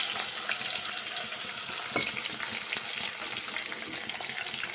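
Ground onion and tomato paste fries in hot oil with a continuous close sizzle and occasional bubbling pops, steady throughout with no voices.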